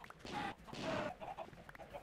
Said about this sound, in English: there is got to be over 100 chickens down there right now